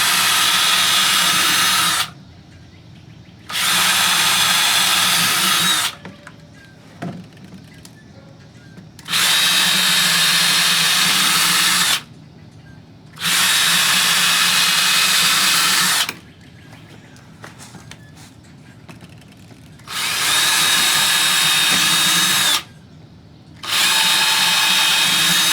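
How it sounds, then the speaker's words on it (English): A power drill drives screws into pallet wood for a DIY bench in loud, whining bursts of one to three seconds, repeated about six times with short quiet pauses between. "I'm going to be going through and putting more screws in here."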